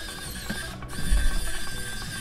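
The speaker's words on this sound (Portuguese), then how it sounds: "Agora a gente passa aqui um parafuso." A screw is driven into the mount of a PlayStation 2 network adapter, giving a short burst of close mechanical clicking and ratcheting lasting about two seconds.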